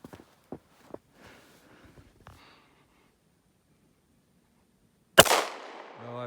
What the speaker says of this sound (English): let's shoot some pop bottles